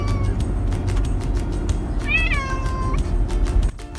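A cat yowls during a car drive to the groomers, one drawn-out falling meow rising above the steady low rumble of the moving vehicle, with road noise filling the rest of the clip and a few faint clicks.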